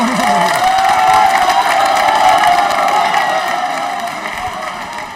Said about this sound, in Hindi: जोरदार तालियां बजाइए, जोरदार तालियां